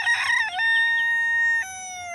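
A rooster gives one loud, close cock-a-doodle-doo. The long crow rises, holds a steady high note, then drops at the end.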